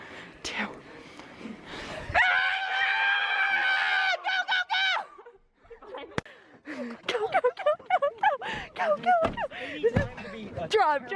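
A group of people at an opening school assembly screams together in a sustained, loud shout for about two seconds, followed by scattered shrieks, laughter and chatter.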